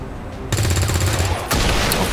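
Gunfire in the turn-based game XCOM 2: two sharp, loud bursts of shots about a second apart, each ringing into a dense crackle.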